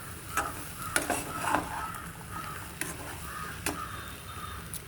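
Prawns fry in a pan for curry with salt and chilli powder, a soft, fairly quiet sizzle with scattered scraping and clinking of a spoon stirring against the pan.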